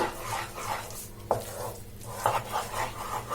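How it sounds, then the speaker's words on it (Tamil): A sweet mixture of lentils and jaggery is stirred in a kadai over a low flame, giving soft repeated scraping sweeps with light sizzling and a couple of sharper knocks of the spoon against the pan. "நம்ம சிம்ல வச்சுட்டே தான் இதை நல்லா மிக்ஸ் பண்ணணும்."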